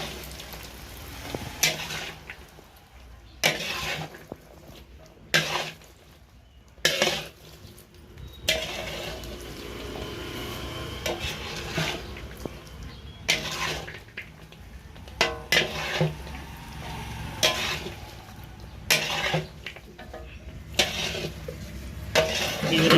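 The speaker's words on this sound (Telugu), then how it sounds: "ఇట్లా కొంచెం కొంచెం ఇట్లా స్లో కలుపుకోవాలి" Jaggery syrup stirred slowly in a pan for sweets, with intermittent scraping and clinking of the utensil against the pan, pausing and resuming in uneven bursts over a faint background hum.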